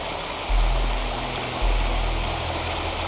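Steady broadband rushing of a waterfall in the video game Wuthering Waves, constant throughout with a couple of low rumbling swells; no voices.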